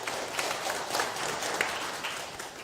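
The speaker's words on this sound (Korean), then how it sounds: "박수 한번 쳐주세요" Steady audience applause fills a lecture hall during a Buddhist dharma talk, a dense, continuous patter of many hands clapping at even loudness throughout, with no talk over it.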